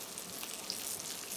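Turnip slices searing in a frying pan give off a soft, steady sizzle with a faint crackle, low and continuous throughout.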